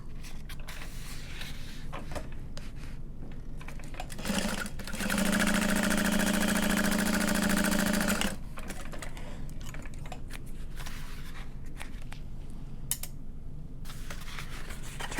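A sewing machine stitches the folded top edge of a fabric bottle sleeve in one steady, close whirring run of about three seconds, framed by quiet handling clicks and fabric rustles.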